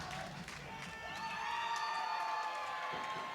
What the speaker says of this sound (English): He gets an Allen chant here from the crowd